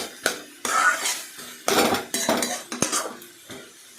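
Banana stem being stirred with sugar in a pan: close metallic clanks and scrapes of a spoon against the pan in uneven bursts, with a faint sizzle between strokes.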